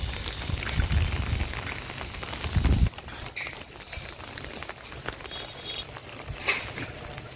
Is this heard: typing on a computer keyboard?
no